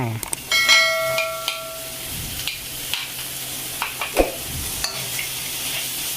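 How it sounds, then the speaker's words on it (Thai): Pork cartilage stir-fried with curry paste in a Thai jungle curry, a steady sizzle with clinks and scrapes of a spatula against the pan, and a brief ringing metallic tone near the start. "แล้วก็ผัดให้เข้ากันกับเครื่องที่เราลงไปเมื่อกี้เนี่ย"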